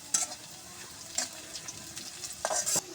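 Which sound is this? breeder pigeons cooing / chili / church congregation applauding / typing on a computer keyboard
chili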